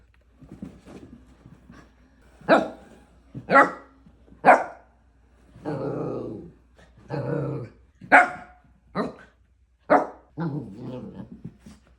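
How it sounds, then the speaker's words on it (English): A pet dog barks while playing with an ECOVACS DEEBOT X11 robot vacuum indoors, giving around a dozen sharp, loud barks and yips in irregular bursts, close by, with no talking. "Also enjoy this clip of my dog Fia playing with the X11 robot."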